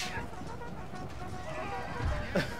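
A horse whinnies in a cavalry charge in the strategy game Empire: Total War. Battle noise and hoofbeats run underneath, with a louder neigh rising near the end and voices talking over the action.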